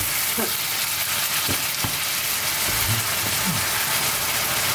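A seasoned ground mixture for keto spaghetti squash casserole sizzles and fries steadily in a hot pan, a loud continuous hiss with occasional scraping stirs of a utensil.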